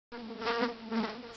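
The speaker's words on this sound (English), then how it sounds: "Fly." A fly buzzing in a steady, close drone with a slight wavering pitch, lasting just over a second and standing alone without talk.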